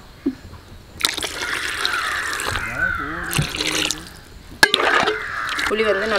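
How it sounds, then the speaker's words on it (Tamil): Water splashes and trickles into a pan of simmering tamarind groundnut gravy, with bubbling and clinks of a utensil, mixed with a steady background hiss. "இது கெட்டியாக இருக்குங்க, கொஞ்சம் தண்ணி சேர்த்துக்கலாங்க."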